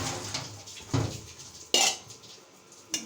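A metal cooking pot for rice is handled in a home kitchen, with several sharp metallic clanks and knocks at irregular intervals, close and fairly loud, without speech.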